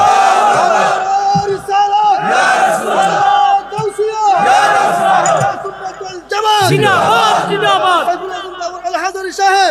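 A large crowd at a Bengali religious sermon roars back in unison to a takbir call, loud and sustained shouting with overlapping voices and cries filling the space.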